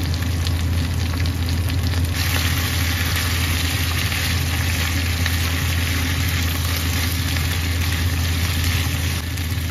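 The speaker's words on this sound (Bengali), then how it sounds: "আমি আলুটাকে ততক্ষণ ভাজবো যতক্ষণ এটা একটা ট্রান্সপারেন্ট না হয়ে যায়।" Potatoes fry in a pan with turmeric and salt, giving off a steady, loud, continuous sizzle that holds evenly throughout, with no talking over it.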